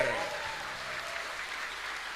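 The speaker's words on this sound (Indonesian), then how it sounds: "Maka tepuk tangan kita hadirkan Menteri BUMN Mas Erick Thohir." An audience applauds to welcome Indonesia's state enterprises minister Erick Thohir, with a steady wash of clapping across the whole two seconds, close and moderately loud.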